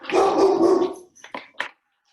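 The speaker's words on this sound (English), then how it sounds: "Sorry, my dog is barking." A domestic dog gives one drawn-out bark, then a few short sharp yips trailing off into silence, close and loud in an indoor kitchen.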